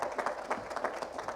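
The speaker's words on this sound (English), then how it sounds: "So if we can give another round of applause." An audience applauds after a presentation at a Hedera dapp ecosystem event, with steady, soft clapping from a moderate crowd heard from a distance.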